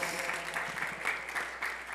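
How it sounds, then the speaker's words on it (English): Church congregation clapping in praise during a service, a steady dense patter that stays loud for the whole stretch, with voices mixed in among the claps. "can we give Jesus a clap of praise for that?"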